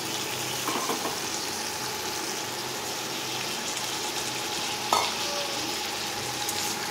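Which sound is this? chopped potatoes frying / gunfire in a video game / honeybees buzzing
chopped potatoes frying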